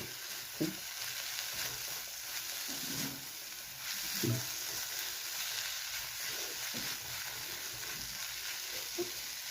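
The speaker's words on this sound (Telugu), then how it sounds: "కొంచెం మెత్తపడి వరకు ఇలాగా వేయించుకోవాలి" Grated pumpkin frying and being stirred in a pan, a continuous bright sizzle broken by soft periodic scraping strokes of the spoon, close and without speech.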